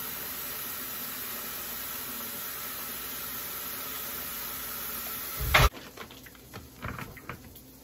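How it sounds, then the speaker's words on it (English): A steady hissing spray of cooking oil into a skillet runs for several seconds, then cuts off abruptly, followed by faint clicks and light rustling. "Spray it with a little oil."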